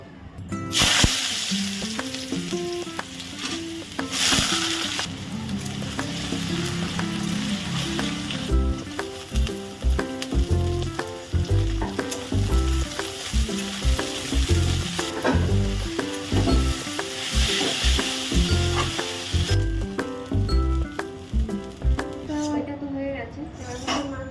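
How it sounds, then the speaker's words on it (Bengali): Chow mein with cabbage, carrot, potato, tomato and green chilli frying in mustard oil, a loud steady sizzle broken by repeated scrapes and clinks of a spatula against the pan, filling the whole stretch. "এই চাউমিনটা হচ্ছে আমি সর্ষের তেলেই করছি"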